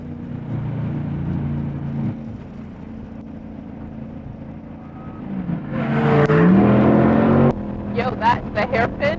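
A C8 Corvette engine accelerates around a race track, its drone climbing in pitch as it revs harder, then cutting sharply before a few short rising bursts; people talk over the engine noise.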